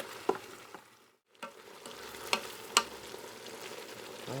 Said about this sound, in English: let's soften those onions up a bit